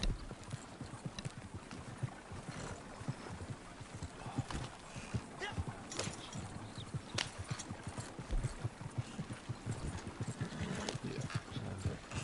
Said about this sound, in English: My horse is following me